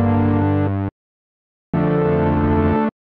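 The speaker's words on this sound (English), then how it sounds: "This time we're gonna go mini poly. Again, Moog emulation with the poly sound." A polyphonic synth pad from a U-He Diva Mini Poly preset, emulating a Moog, sounds two sustained chords, each held about a second and separated by silence, rich and loud.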